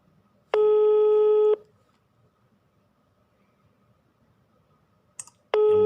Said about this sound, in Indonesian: Nah kita telepon dulu ya.